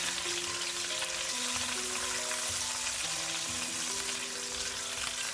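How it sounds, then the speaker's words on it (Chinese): Pork belly stir-fries in hot oil over medium heat in a wok, a steady loud sizzle and crackle of fat rendering out, continuous and close with no talking. "油热之后将五花肉倒进来，开中火慢炒，将五花肉多余的油脂炒出来"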